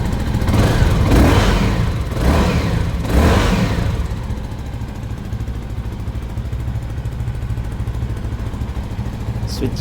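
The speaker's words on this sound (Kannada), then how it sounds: "ನಮಗೆ ಎಕ್ಸಾಸ್ಟ್ ನಾವು ಕೇಳಿಸ್ತೀವಿ." A motorcycle exhaust from a Benelli, Keeway, QJ Motors, Moto Morini or Zontes bike revs loudly in three quick blips, then settles into a steady, close idle rumble.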